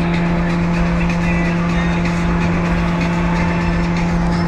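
Toyota car cruising fast on a highway, a constant loud engine drone with a strong steady hum and road and wind noise underneath, unbroken for the whole stretch.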